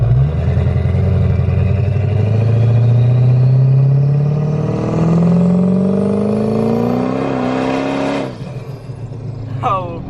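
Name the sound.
800 hp 6.0 Powerstroke engine at speed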